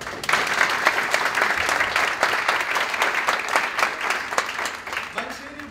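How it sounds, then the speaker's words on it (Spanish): Audience applause at the start of a talk on testing in machine learning projects, steady dense clapping from a seated crowd lasting several seconds before easing off at the end. "Algún aplauso mínimo y arrancamos."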